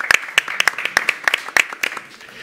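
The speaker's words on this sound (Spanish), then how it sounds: "un fuerte aplauso para ellas dos" Sparse applause from a small audience at a Spanish-language event presenting Audible audio entertainment: a handful of distinct, sharp hand claps close by, irregularly spaced and thinning out toward the end.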